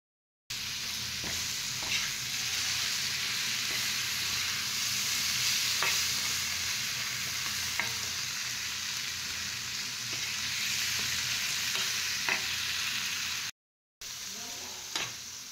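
Prawns and fish fry in a pan with a continuous sizzle, broken by the scrape and clatter of stirring, heard close and fairly loud with no speech, before a short break near the end.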